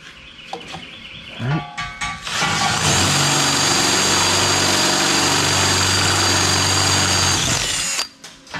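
A power drill bores a hole through metal ahead of cutting a pipe thread with a tap, a steady loud grinding whine that holds from about three to eight seconds after a few short starts.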